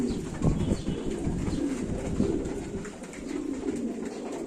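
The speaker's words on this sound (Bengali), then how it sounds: "কবুতর খুব ভালো আছে" Pigeons coo softly and continuously in an enclosed loft, their low repeated calls forming a steady murmur with light rustling and no talk.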